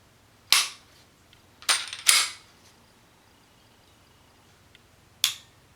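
Ruger SR9c pistol trigger pulled through its long take-up, giving a few crisp mechanical clicks and snaps spaced over several seconds, close and isolated in a quiet room.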